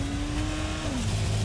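A car engine roars steadily in the Dying Light video game, its pitch sliding downward as tires skid. The sound is loud and continuous throughout, with no talking.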